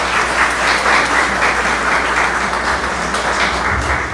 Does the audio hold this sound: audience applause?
yes